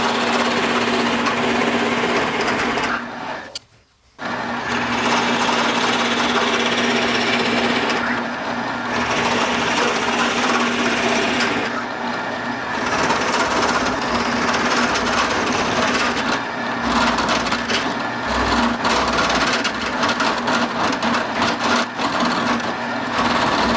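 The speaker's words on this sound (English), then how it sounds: "I'm going to drill all the way across to kind of bore it out using the Forstner bit" A Forstner bit in a drill press bores out a row of holes across a wooden workpiece for a caged golf ball, a steady loud grinding whir running almost continuously, with one brief pause early on.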